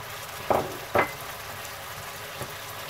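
Ground beef and carrots sizzling in a pan under a steady frying hiss, broken by two brief louder bursts as water is poured in, then a fainter one later.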